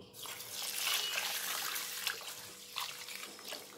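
Rice for chicken dum biryani is washed in water at a sink: continuous soft splashing and swishing with a few sharper splashes, fairly faint and without talk.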